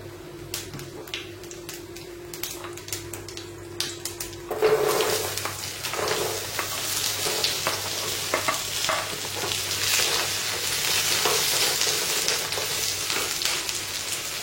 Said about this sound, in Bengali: সর্ষেগুলো ফোটা শুরু করেছে, এবার আমি এর মধ্যে আমটা দিয়ে দেব